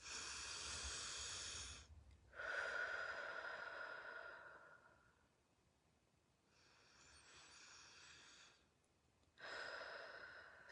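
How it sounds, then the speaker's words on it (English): Three slow, deep breaths taken during a calming relaxation exercise, each a soft, airy inhale and exhale, close and quiet with pauses between them and no talking. "we're going to take 3 deep breaths."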